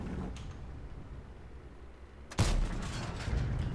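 A single heavy, close blast from a tank cannon in World of Tanks, with a BC 25t, 50B and TVP involved, followed by a rumbling tail and some noise of battle.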